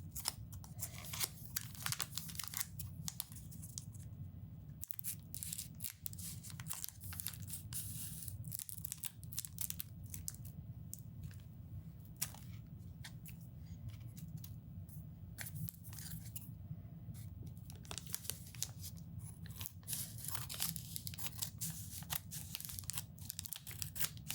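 Scissors snip repeatedly through crinkly packaging of a Pokémon trading card collection box, close up, with irregular cuts and rustling throughout.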